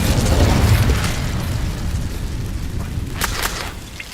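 Incendio fire spell cast in Hogwarts Legacy, with a loud whooshing burst of flame at the start fading into a crackling rumble, followed by a few faint sharp pops near the end.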